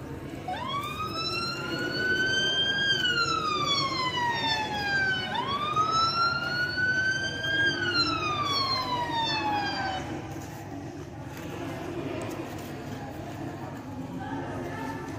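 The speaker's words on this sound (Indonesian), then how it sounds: "mobil pemadam kebakaran dan tim ambulans datang ke lokasi kejadian kebakaran" Fire engine and ambulance sirens wail, sweeping up and down, loud and near, two long rising-falling cycles before fading into traffic noise, during a fire emergency drill.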